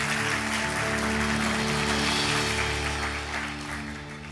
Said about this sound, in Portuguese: E eu queria pedir gentilmente para você aplaudir fortemente ao Cristo Jesus pela vida de cada um desses voluntários